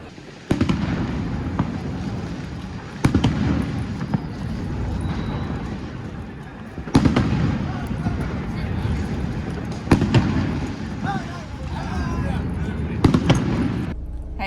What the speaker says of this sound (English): So you might be able to hear the fireworks